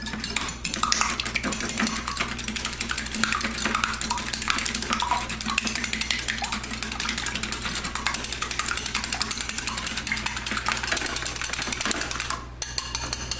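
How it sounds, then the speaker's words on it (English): Eggs whisked with a fork in a separate container, a steady rapid clatter of metal tapping against the bowl that runs continuously and close, with no talking. "whisk it up with a fork or a whisk"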